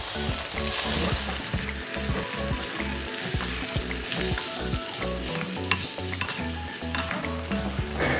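A vegetable biryani mixture with curd and spices is stirred in a mud pot, with a continuous loud sizzle and a rhythmic run of thumping, scraping strokes close by, while music plays underneath.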